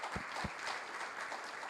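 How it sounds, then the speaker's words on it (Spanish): An audience at a journalism seminar applauding the panelists, producing a dense, steady wash of clapping at moderate loudness that continues without a break. "Yo les pido un aplauso para ellos."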